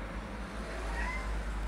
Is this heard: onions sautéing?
no